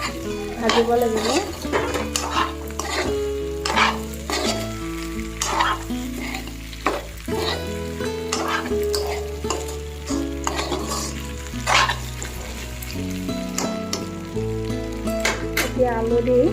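Pre-boiled pork and potato pieces fry loudly in a pan, a dense close sizzle broken by repeated stirring scrapes and clinks as the mixture is turned.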